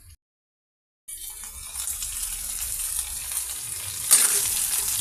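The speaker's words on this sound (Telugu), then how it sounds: "ఈ పీసెస్ని ఆయిల్లో యాడ్ చేద్దామండి" Boiled potato pieces dropped into oil with a little turmeric start sizzling after a second of silence, a close steady frying hiss that builds and jumps louder near the four-second mark, with no talking.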